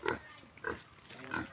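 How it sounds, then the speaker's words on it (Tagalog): A pig grunts outdoors, three short snorting grunts spaced apart over faint background noise. "Baboy!"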